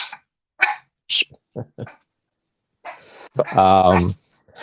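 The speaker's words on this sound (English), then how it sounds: "my dogs are barking" Dogs barking indoors in short sharp bursts, several quick barks spaced apart and then a longer, louder volley near the end, with a voice nearby.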